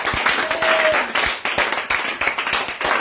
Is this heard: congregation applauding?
yes